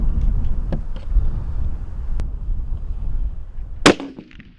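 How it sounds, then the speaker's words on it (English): A single sharp rifle shot cracks loudly near the end while zeroing a Leupold scope, standing out over steady low wind rumble and faint clanks. "All right, I'm gonna go ahead and shoot."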